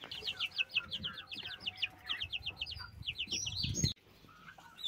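A young Galinha Sertaneja Balão chick peeps in quick runs of high, bright chirps, fairly close and clear over a quiet background with light rustling, the calls stopping abruptly near the end.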